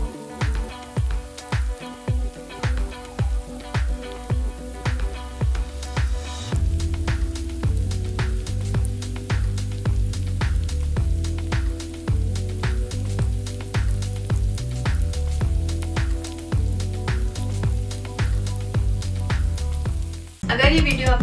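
Achari chicken with pickled green chillies cooks in a pan, giving a steady, close frying sizzle with a run of sharp crackles and pops at the start, then a continuous bubbling sizzle with no talking.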